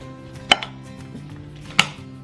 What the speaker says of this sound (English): I'm gonna even make these onions a little even more diced down